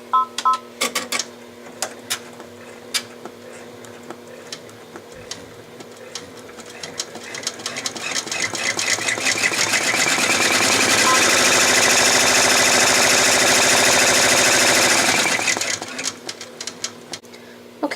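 An embroidery machine sewing a tack-down stitch on a leaf appliqué, with rapid close stitching that starts with scattered clicks and beeps, then builds into a loud, dense, steady whir before stopping.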